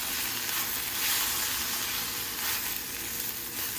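Grated coconut sautéing lightly in a pan for a chicken curry gives a close, steady hiss of frying with faint stirring scrapes throughout.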